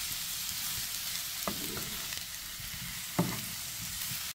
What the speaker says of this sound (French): On va bien mélanger et toujours à feu moyennement fort, laisser tout ça bien griller gentiment.